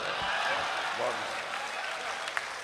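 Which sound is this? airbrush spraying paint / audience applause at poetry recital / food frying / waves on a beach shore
audience applause at poetry recital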